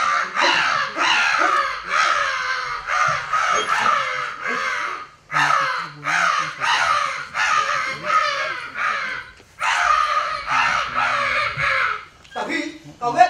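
A crow caws over and over in harsh, rapid rhythmic runs with short pauses between groups, loud and close, continuing for the whole stretch.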